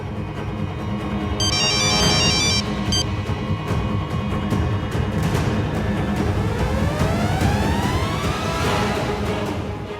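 A ringtone-like electronic phone chime plays loud and continuous over dramatic background music and a sweeping tone during a tense Hindi TV serial scene, with no talk.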